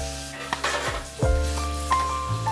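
Bay leaf and cumin seeds dropped into hot oil for tempering, a crackling sizzle with sharp pops and a few clinks of a utensil against the pan, close and continuous.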